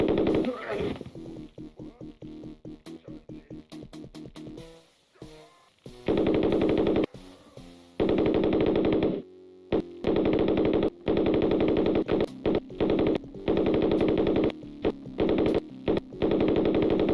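Rapid bursts of automatic gunfire from the 1994 DOS shooter Operation Body Count, loud and close, alternating with single shots and short pauses between volleys.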